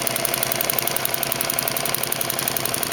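Singer 111W153 walking foot sewing machine stitching a long seam through RV canopy cloth, a steady continuous mechanical whir and rapid needle chatter at constant speed, close and loud throughout.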